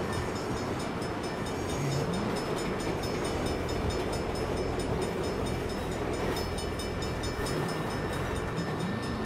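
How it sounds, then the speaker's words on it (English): A train in the video game Saints Row rumbles steadily past, a continuous heavy mechanical roar with faint rhythmic clatter throughout, no voices. "Bad time for a train."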